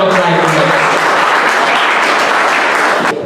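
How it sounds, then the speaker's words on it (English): A seminar audience gives a sustained, dense round of applause for the event organizers, loud and continuous throughout before cutting off at the end. "a huge round of applause, a big hand for the youth icons for organizing the Circle of Life event"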